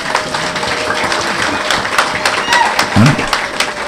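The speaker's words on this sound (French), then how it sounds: "Applaudissez pour Jésus-Christ." Scattered clapping from a church congregation during a worship service mixed with voices, uneven and lively, with a few sharper claps standing out.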